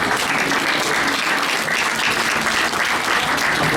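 An audience at a church's 25th anniversary celebration in Kathmandu applauds in a steady, dense wash of clapping that stays loud and even from start to finish.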